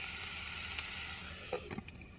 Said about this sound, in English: boy, it's really sizzling now